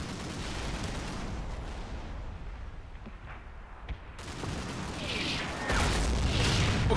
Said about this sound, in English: A bit of MG fire going out. Another tank round coming in. Incoming RPGs.